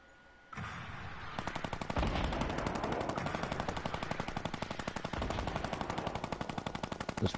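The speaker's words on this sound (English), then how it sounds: "I think he enjoys the minigun." Minigun in Fortnite firing a long, relentless burst of rapid rounds, loud and close, with a sharp start after a brief lull and an unbroken rattling stream to the end.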